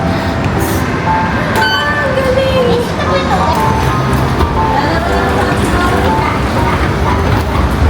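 A Macau light rail train rumbles past with continuous mechanical rolling noise and squealing tones, with people talking nearby over the din.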